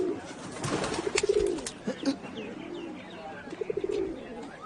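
Pigeons coo in soft, repeated rolling calls, close by, with a few flutters and chirps mixed in and short clicks between phrases.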